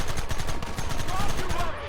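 Rapid machine-gun fire in Red Dead Redemption, a steady train of close, punchy shots crackling along without a break over a battle din.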